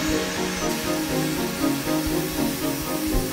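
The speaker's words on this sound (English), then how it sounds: "The drill bit follows a pre-programmed route, shaping the car with utmost precision." A 5-axis milling machine cuts a clay-style scale model of a 2018 Range Rover Velar, giving a steady, loud whirring drone with a slightly pulsing rhythm that runs without a break.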